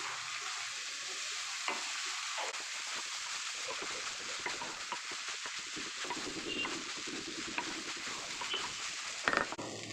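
Marinated rice for Bengali basanti pulao being stirred in a hot frying pan, a steady close sizzle with scraping spoon strokes and light clinks running throughout without talk.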